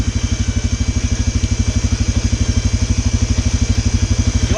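A four-wheeler ATV engine idles nearby, a loud, steady, rapid low-pitched thumping pulse that holds an even rhythm throughout, with no voices over it.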